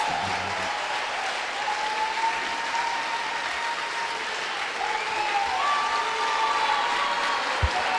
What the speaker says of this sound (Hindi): आप इससे भी अच्छी ताली यीशु के लिए बजाइए।